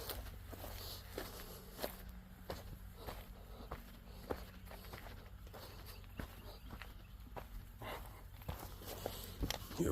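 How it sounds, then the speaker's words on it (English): Footsteps walk across a workshop floor during a John Deere 145 lawn tractor fuel tank swap, an uneven series of close, light thuds and scuffs. "We're walking, we're walking, we're walking."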